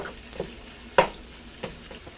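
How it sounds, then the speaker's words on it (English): Italian sausage meat cooks in a pan with a soft, steady sizzle, broken by a few light clicks and scrapes of stirring, close and fairly quiet. "I'm just going to cook this sausage meat until it's cooked."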